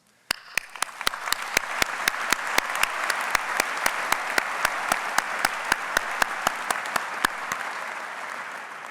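An audience at a graduate ceremony applauds, a dense, steady roar of clapping that starts abruptly and holds at full strength throughout, fairly close, with no speech over it.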